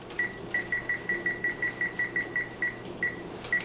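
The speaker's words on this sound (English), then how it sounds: "set a timer" Kitchen timer set for rice cooking, giving a steady run of short, sharp beeps at a regular pace, about a dozen in quick succession, close and clear over a faint background hum.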